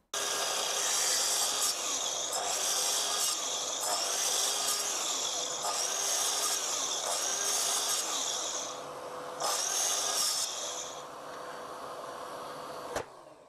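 A power saw cuts small wooden parts held by a hold-down jig in a workshop: loud, steady whining runs in repeated passes, with a brief lull and a sharp knock at the end.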